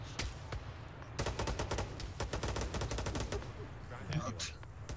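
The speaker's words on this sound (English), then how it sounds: "Oh, no, I gotta shoot him." Rapid gunfire in the Arma 3 military video game, with dense bursts of automatic shots cracking over steady battlefield noise for several seconds, loud and close.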